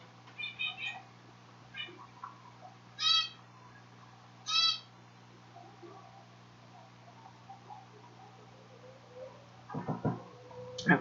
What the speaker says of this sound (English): That's Remy, my Quaker.